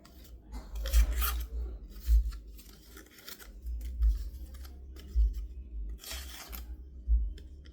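A freshly sharpened kitchen knife, just honed on a knife sharpener, slices through material in close, repeated rasping strokes, each pass ending in a soft low thump at roughly one-second intervals, with no talking.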